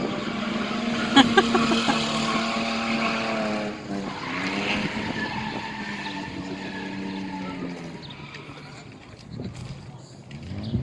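Race cars lap a racetrack in Feilding, New Zealand, their engines droning and rising in pitch as they pass at mid-distance, with someone talking over the sound.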